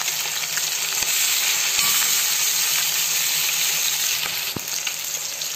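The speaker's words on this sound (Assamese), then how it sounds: "তেল গৰম হ'ল, এয়া তাতে মাছ দি দিছোঁ।" Pieces of rohu fish sizzle in hot oil in a home kitchen pan, a loud, steady bright hiss with occasional pops and utensil taps throughout.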